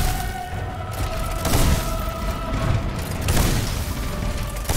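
Incendiary grenade detonating in Steelrising: repeated dull booms and bursts with a roaring, crackling fire-like wash throughout, loud and dense.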